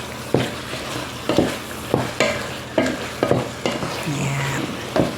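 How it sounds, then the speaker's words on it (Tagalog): Chicken frying in a pan is stirred for a Filipino home-cooked chicken dish, with a steady sizzle and about eight sharp scraping strokes at a regular pace, close to the microphone. "Haluin lang po natin ulit. Ayan, para mag-mix yung lasa ng mga nilagay natin ingredients sa chicken."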